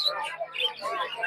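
Java sparrows chirping at a poultry and bird market, quick bright close tweets repeating in a short busy burst.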